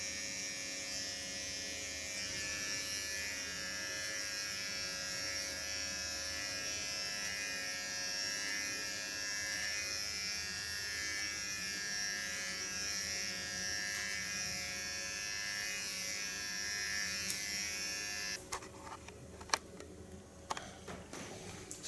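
An electric hair clipper buzzes steadily and close at hand as it cuts a pixie cut with blonde parts, the hum unbroken until a few sharp clicks and ticks near the end; no one speaks.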